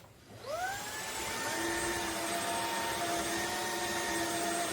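A Dreame H14 wet and dry cordless vacuum mop starts and runs, its motor whining up in pitch within the first half second and then holding a steady, high close-up hum with no voices.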